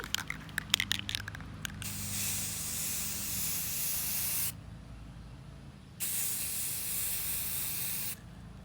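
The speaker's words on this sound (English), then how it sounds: "the spray paint will overspray a little bit" Spray paint from an aerosol can laid as a thin coat onto a glass palette: a few sharp rattling clicks, then a loud, close, steady hiss broken by two brief pauses.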